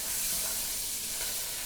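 Butter sizzles steadily in a hot pan during preparation of a koji mushroom dish, a loud, continuous hissing fry with no voices.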